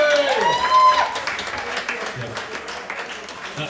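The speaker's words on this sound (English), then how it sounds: "So round of applause for the Murphy's people." An audience applauds and cheers at an album launch gig. The clapping is a steady wash of mid-level noise that tapers slightly, with a voice talking over it.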